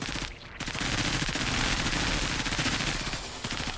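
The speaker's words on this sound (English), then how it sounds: "we're just gonna take 2 shots here" Rapid automatic gunfire from the turn-based tactics game Menace, a dense, loud stream of shots rattling continuously with a brief gap near the start, no voices over it.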